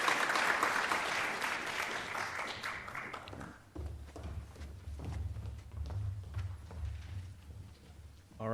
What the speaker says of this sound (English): Let's do one round of applause once more.